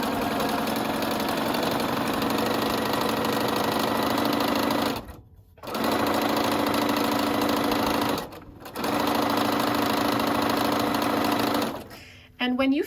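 A sewing machine stitches a seam on a McCall's 8358 wrap dress, running in steady bursts with two short pauses and stopping near the end, a fast mechanical hum close by.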